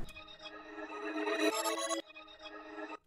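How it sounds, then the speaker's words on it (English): A reversed, time-stretched musical sample drenched in reverb swells up from nothing and cuts off abruptly, then repeats in a shorter second pass, tonal and washy with no voices. "consolidate this, reverse it, maybe stretch it, put some reverb on it."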